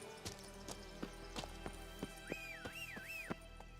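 Roach, the horse in The Witcher 3, trots with steady evenly spaced hoof clops on the ground, moderately close, with a brief rising and falling whistle partway through and no speech.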